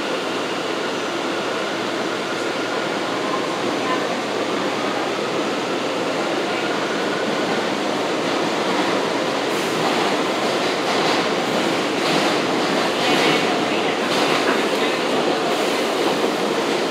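An R179 subway car on the J local runs steadily along the track, a continuous loud rumble and rail roar with faint clicking from the wheels and no talk.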